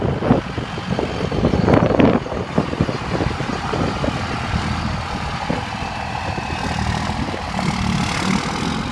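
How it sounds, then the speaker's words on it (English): Lifted Cummins diesel truck with a six-speed transmission, its engine idling close by with a deep, steady rumble and a louder rev surge early on. "Man, that truck sounds good"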